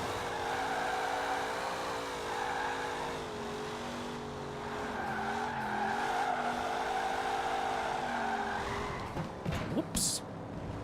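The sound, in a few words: car doing a burnout with tire squeal in Forza Horizon 4 video game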